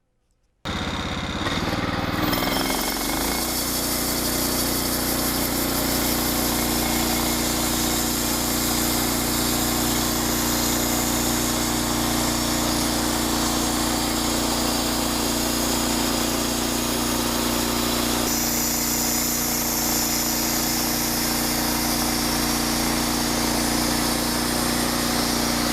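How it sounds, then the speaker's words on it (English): A sawmill runs a continuous loud engine drone while milling a slab off a 2x6 at an angle, starting abruptly and holding steady for the rest of the stretch, with no talk. "we'll mill off a decent thickness of slab so that we can mill the 2x6 at the correct angle"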